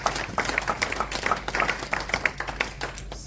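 A church congregation claps in praise of the Lord, a dense, steady patter of many hands filling the room at a lively, even tempo with faint voices mixed in.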